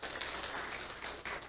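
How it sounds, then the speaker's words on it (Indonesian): A church congregation applauding during a worship service, a dense, even wash of clapping from many hands that holds steady for a moment and then tapers off, heard alone. "Yang percaya tepuk tangan buat Tuhan Yesus."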